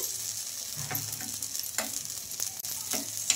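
Ponganalu batter dumplings fry in a pan of hot oil, a steady close sizzle with soft crackles and a few stirring scrapes, no voices.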